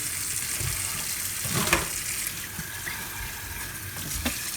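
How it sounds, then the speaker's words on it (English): Water draining and trickling out of a raw turkey into a roasting pan during preparation for a bacon-wrapped roast, a steady wet splashing hiss with a brief louder gush partway through. "make sure all the water that I just shoved into this bird is relatively out"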